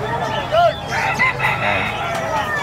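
A rooster crows loudly and nearby at a busy pet market in Bocaue, its calls rising over crowd murmur and other fowl clucking.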